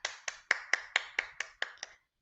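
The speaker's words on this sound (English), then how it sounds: "Hand clap." A quick series of about nine evenly spaced hand claps, sharp and close, stopping abruptly with no voices around them.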